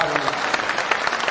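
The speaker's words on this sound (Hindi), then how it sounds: "बस एक बार पहले जोरदार ताली से इसका स्वागत" An audience at a state-level workshop in Patna's Bapu Sabhagar hall claps to welcome a speaker, a brief burst of dense applause heard close, with a voice partly over it.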